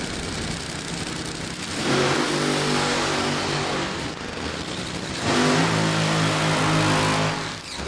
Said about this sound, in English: Burnout's complete.